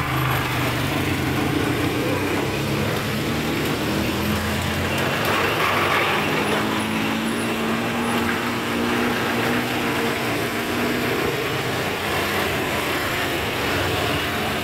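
A minibus and a pickup truck roll along a potholed road with large puddles during heavy holiday return traffic, a steady engine and tyre rumble at moderate distance with no break.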